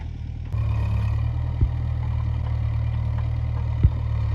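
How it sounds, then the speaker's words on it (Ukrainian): A small tractor's engine idles and chugs steadily nearby as it levels ground in a garden, its rumble stepping up after a moment with two brief clanks; no voices. "Зараз шумно, бо збоку працює тракторець, розрівнює цю ділянку, це місце."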